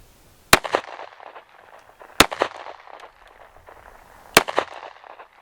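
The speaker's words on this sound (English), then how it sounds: "So let's see how this does out of the pistol." A pistol fires 5.7x28 copper alloy solid projectiles at body armor outdoors, three sharp loud single shots spaced about two seconds apart, each followed by a short fading echo.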